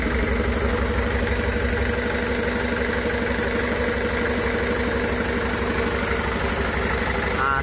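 A Daihatsu Feroza converted from petrol to a diesel engine idles steadily throughout during a running test, a close, continuous rhythmic clatter with no talk over it.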